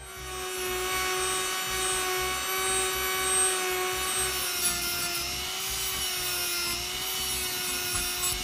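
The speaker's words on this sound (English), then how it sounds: "Now I knew cutting into the central sprue was going to be awkward and time consuming" A cast ring's central sprue, from lost-PLA casting at home, is cut with a motorized tool, giving a steady whining hum with grinding friction that runs continuously and close up.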